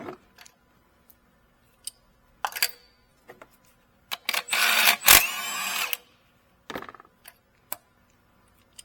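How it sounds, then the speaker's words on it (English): A 14mm spark plug socket on a wrench clicks and ratchets in short, sparse bursts, with one longer rattling stretch in the middle, while an old plug is removed from a 2.4-litre four-cylinder fifth-generation Nissan Altima. "grab a 14mm spark plug socket. Take out your old plug"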